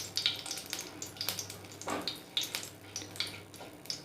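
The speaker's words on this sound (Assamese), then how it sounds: "শুকান জলকীয়াটো এতিয়া অকণমান ভাজ খাই লওক" Dry red chilies fry in oil over a high gas flame, giving a steady crackling sizzle with sharp pops and bursts scattered throughout, close and fairly loud.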